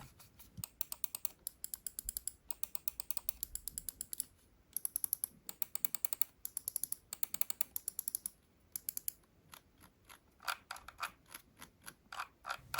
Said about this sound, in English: the Ultralight X gaming mouse switches have much better and softer sound